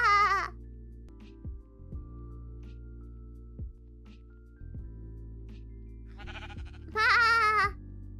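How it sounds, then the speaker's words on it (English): Sheep bleating, with a loud quavering bleat at the start and a longer one near the end, over a steady low hum and scattered clicks, with no talk. "It's a random sheep."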